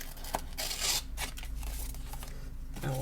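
Scissors snip through the top of a paper sticker sheet in a few short, close cuts, with soft rustling and rubbing of the sheet between them.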